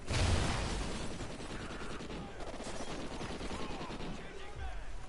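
Video game gunfire: a dense, sustained rattle of shots and mechanical clatter running throughout the whole stretch at moderate level, with no talking over it.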